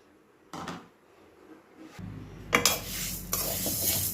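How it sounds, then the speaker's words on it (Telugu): Cashews frying in a pan on a stovetop: after a quiet start with a few clinks, a steady close hiss of sizzling sets in, with scraping and stirring strokes layered over it and no talk. "ఇవి ఇప్పుడు ఫ్రై చేసుకోవాలి స్టవ్ మీద బాణలి పెట్టి ఫ్రై చేయాలి"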